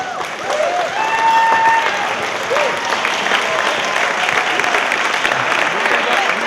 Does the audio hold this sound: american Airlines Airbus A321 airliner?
no